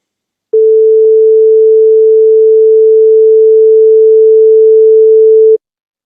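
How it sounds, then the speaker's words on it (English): A single pure sine tone, like the fundamental frequency of a gravitational wave signal with no overtones, starts abruptly, holds loud and perfectly steady for about five seconds, then cuts off. "If we listen to just the fundamental frequency with no overtones, it's actually just a pure sine wave"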